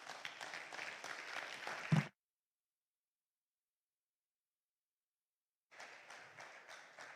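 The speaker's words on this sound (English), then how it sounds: "Please keep clapping, keep clapping." Applause from a conference audience, a dense even wash of many hands clapping for about two seconds, cutting off abruptly, then resuming after a long silence.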